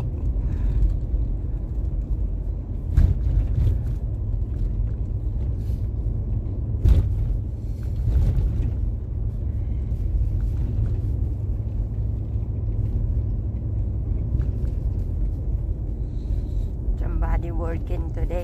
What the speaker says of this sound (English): It takes only 3 minutes to drive to my work.